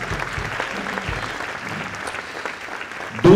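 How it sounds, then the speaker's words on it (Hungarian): An audience at a summer-evening wind band concert applauds steadily for the band's tenor saxophonist, a moderately distant, even clapping that continues throughout and swells slightly at the very end. "Egy nagy tapsot kérünk Dórának is."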